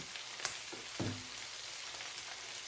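Onions and peppers fry in a pan, a faint, steady sizzle with a couple of soft pops and clinks of stirring.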